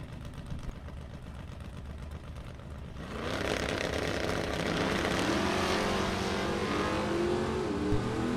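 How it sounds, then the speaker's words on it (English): Engines of drag racing cars, a Chevrolet Monte Carlo and a Camaro, rumble at idle, then surge into a loud, sustained roar as they launch and accelerate at the strip. "Tim Mosier and Mike in the Monte Carlo coming up."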